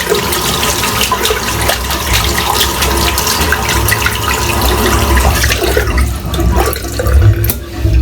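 Water runs steadily from a tap as soap is rinsed out of a wet shaving brush, a loud continuous splashing rush that eases slightly near the end.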